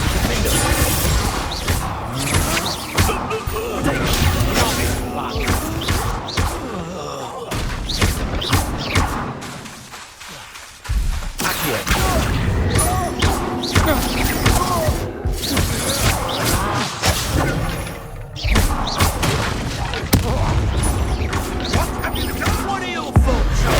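Loud, dense battle in Hogwarts Legacy as Bombarda spell explosions crash and boom one after another, with heavy thuds and clatter filling the whole stretch, briefly easing near the middle before the blasts resume.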